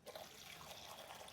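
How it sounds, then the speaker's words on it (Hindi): Water running steadily into a container at home, a soft continuous splashing flow, quiet and close with no talk. "इसको पानी भर के दे देता हूँ"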